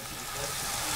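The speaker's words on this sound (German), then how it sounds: "schön gemütlich einfach hier anbraten lassen, unser Schweinefilet" Pork fillet sears in a Dutch oven with a steady, dense sizzle that stays close and fairly loud throughout, and no one speaks.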